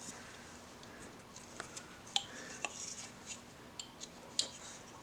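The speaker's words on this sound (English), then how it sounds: "I'm gonna go in and take a knife and come in and" Small knife cutting into a hand-carved wooden hillbilly figure, shaping the beard, with faint intermittent scraping clicks and light nicks close by against a quiet hiss, no talking.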